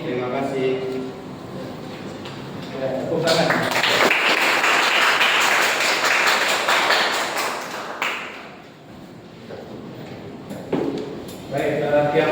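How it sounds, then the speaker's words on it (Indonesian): Applause from a classroom group after a student presentation in an automotive engineering class, a sustained burst of clapping that swells and then fades, with talking before and after. "Ya, tepuk tangan."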